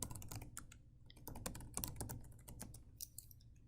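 Quiet, rapid clicking of keys as login details are typed on a computer keyboard, a continuous patter of soft taps with no speech.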